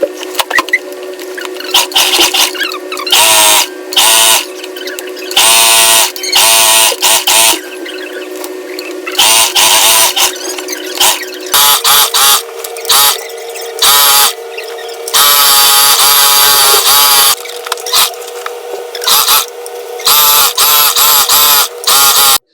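A sewing machine stitches a seam on a wide-leg gathered-waist jumpsuit in repeated bursts, a fast, buzzing mechanical whir that starts and stops with short pauses between runs.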